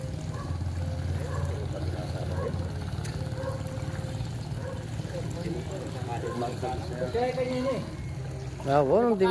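A steady low boat motor drone runs throughout on floodwater, with people talking over it and a brief rise in noise near the end.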